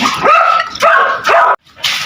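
Several dogs bark loudly and close by at a home, a quick run of sharp, yelping barks with short gaps between them.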